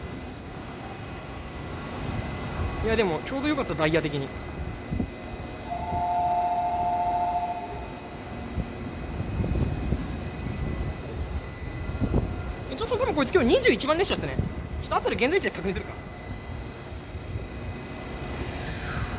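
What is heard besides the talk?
Kiki & Lala themed monorail train arriving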